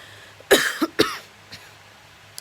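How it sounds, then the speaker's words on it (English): A few sharp coughs close up, two quick ones followed by another, then a softer cough and a faint click in a quiet room. "I've been coughing so bad since I got fired, to be honest."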